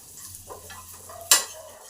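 Roasted spices and garam masala fry in a pan with curry leaves: a low sizzle and gentle stirring, broken by one sharp scrape or clink of a utensil, with no talking.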